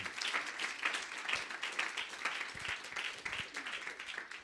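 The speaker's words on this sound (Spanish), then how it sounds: "Dale fuerte el aplauso," A church congregation applauds during a sermon, steady mid-distance clapping with audible individual hand strikes, sustained throughout at moderate loudness without speech.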